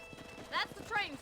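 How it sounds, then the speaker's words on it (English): Horses' hooves clip-clop at a steady walking rhythm in the video game Red Dead Redemption, soft and fairly close, running beneath a voice that speaks over them. "കുറേ കുതിരകളുണ്ടല്ലോ."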